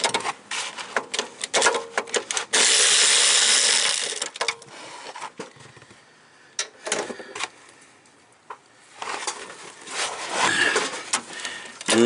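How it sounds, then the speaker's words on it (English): Ratcheting and metallic clicking from a hand tool loosening the two bottom bolts on a Jeep Patriot ABS module, in quick irregular bursts with pauses, close up and fairly loud, no talking. "Should just have to loosen these two bottom bolts."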